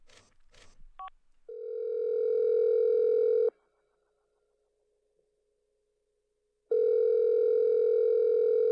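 A few brief clicks are followed by a telephone call ringing out, two long, loud, steady ringback tones separated by a silent pause.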